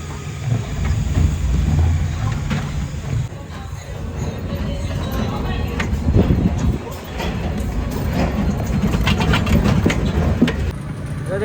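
Train idling at a railway station in rainy weather, a steady low engine rumble with rail clatter and occasional clicks running throughout, fairly loud and continuous with no speech.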